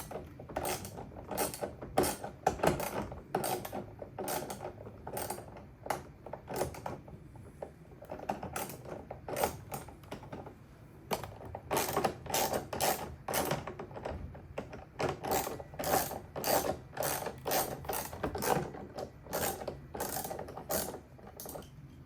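A ratchet wrench loosens the last bolt, at the top of a Tesla Model Y door mirror with integrated turn signals, in steady runs of rapid, close mechanical clicking with brief breaks between strokes.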